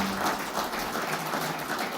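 A warm round of applause fills a hotel ballroom at a cricket player auction, as a steady wash of many hands clapping sustains at moderate volume.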